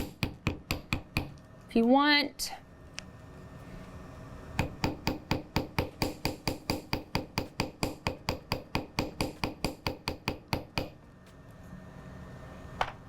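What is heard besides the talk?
ball end of chasing hammer texturing flattened wire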